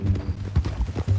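Horse hooves clip-clopping in the Western video game Red Dead Redemption 2, a close, steady, rhythmic series of muffled hoofbeats at a walking pace.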